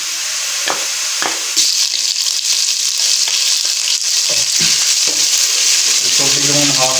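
Onions frying in oil with garlic-ginger paste added for a vegetable pulao, a steady close sizzle with intermittent scraping stirs and a few utensil knocks against the pot.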